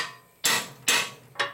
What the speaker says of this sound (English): that's why I used a big hammer